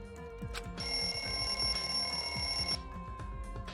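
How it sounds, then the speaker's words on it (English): A wall clock alarm in the Danganronpa 2 video game rings with a shrill, steady bell tone for about two seconds over a rhythmic game music backing track. "The lounge's wall clock alarm started ringing at 5:30."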